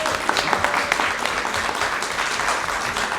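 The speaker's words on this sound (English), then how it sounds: "keep on clapping" Sustained applause from a conference audience as panelists are introduced at a healthcare advocacy annual meeting, even and continuous clapping from many people filling the room.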